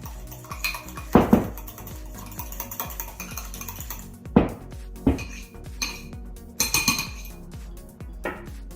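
A utensil mixing cream cheese flavoring into a donut topping in a bowl, a series of close, irregular clinks and scrapes against the dish, some sharp knocks, with no talking.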